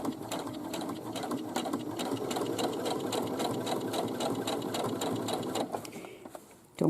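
A sewing machine runs steadily, stitching the bottom seam of a fabric Boomerang Bag, its rapid even needle clatter close and continuous before slowing to a stop at the end.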